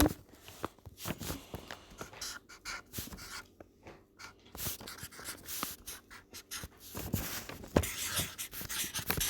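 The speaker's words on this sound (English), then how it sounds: "let me write this down" Pen scratching across paper in short, irregular strokes while details get noted down, close and fairly busy, with some faint shuffling and handling noises mixed in.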